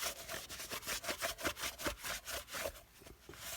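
Residue from an old gasket scraped off the deck surface of an engine block, with quick, steady back-and-forth strokes of about four per second, close and clear with no talking.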